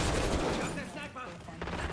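Bursts of rapid gunfire from the video game Black Ops 6 crackle and fade, mixed with a voice, loudest at the start and again near the end.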